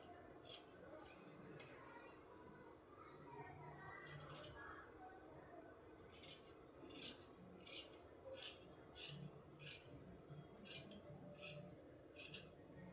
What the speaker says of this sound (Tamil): இது அன்ஈவனாக இருக்கிறதுனால கட் பண்ணி எடுத்துடுறேன்.